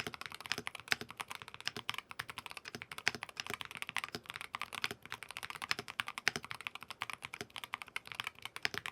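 Rapid, steady keystrokes on a magnetic gaming keyboard, close and fairly quiet, with crisp clicks and clacks running continuously without a voice.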